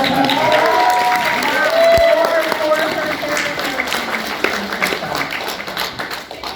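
A convention audience claps and cheers for a guest of honor at a fan Q&A panel, a broad wash of applause that gradually fades, with voices talking over it.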